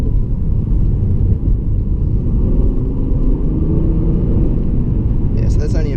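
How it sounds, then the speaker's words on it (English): A 2016 HSV GTS engine pulls at quarter throttle, a deep, steady rumble heard from inside the cabin that holds even throughout, with a brief higher chirp near the end. "that's only about a quarter of the throttle, and it just picks up and just goes like it's going downhill"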